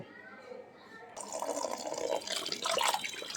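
Red water lily flowers being rinsed under a running tap, a steady splashing stream that grows louder and fuller partway through as the flowers go under the flow.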